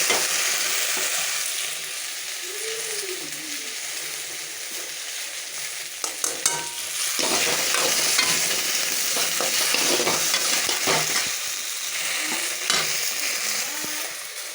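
Okra sautés in coconut oil in a pan, a close sizzling hiss broken by repeated scraping stirs and clinks of a utensil against the pan.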